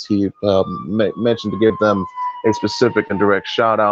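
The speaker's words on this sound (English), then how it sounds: "Apologize if you hear a siren in the background." A siren wails faintly in the distance, its steady drawn-out tone sliding slowly lower, heard through an open window beneath someone talking continuously.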